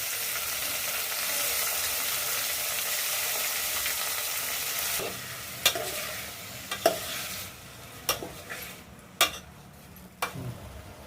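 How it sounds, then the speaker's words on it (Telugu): Tomatoes tossed into hot oil with green chillies and curry leaves for a tomato fry, a steady close sizzle with scraping stir strokes and a few sharp clinks of a spoon against the pan. "టమాటాలు వేసుకొని కలుపుకోవాలి."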